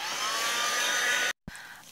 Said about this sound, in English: And I need my dryer to dry. Yeah, to dry the page.